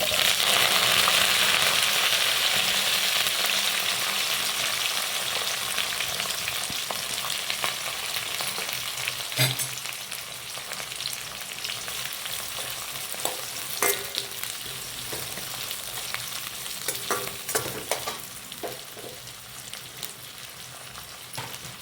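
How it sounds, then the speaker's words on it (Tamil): Onions frying in hot oil after garlic for a paruppu urundai kulambu, a strong sizzle at first that settles into a steadier crackle with occasional spoon scrapes and taps against the pan. "இந்த வெங்காயம் நல்லா ப்ரௌன் கலரில் நல்லா வதங்கணும்"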